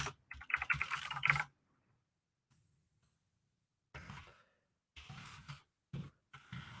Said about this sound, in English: Typing in all this stuff manually just feels so retro and satisfying.